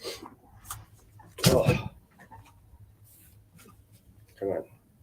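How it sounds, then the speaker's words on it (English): A single loud sneeze bursts out near the start while handling a dusty box of half-dollar coins, followed by quiet rustling and a brief voice. "this box is so dusty, it's making me sneeze"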